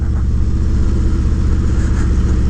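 A motorcycle rumbles across a grated drawbridge at Daytona Bike Week, its engine close and loud with a steady, pulsing drone and a rough, buzzing texture from the grating.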